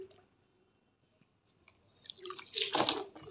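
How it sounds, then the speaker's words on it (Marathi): Water is poured into a new bathtub set up for a child's bath in a garden: quiet drips and handling at first, then a louder splashing gush near the end. "टाका टब मध्ये पाणी"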